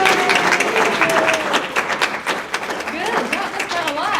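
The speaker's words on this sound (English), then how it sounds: "let's give a big round of applause to them" A crowd at a luau-themed music recital applauds first-time performers, loud dense clapping filling the space, with a few voices and cheers rising over the applause toward the end.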